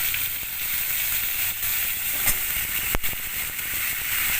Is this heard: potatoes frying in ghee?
yes